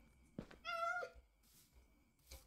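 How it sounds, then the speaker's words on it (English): A single short, clear meow from a cat in modded Minecraft, heard amid sparse game sounds: a thud before it and a couple of faint soft noises afterward. "You're a cat."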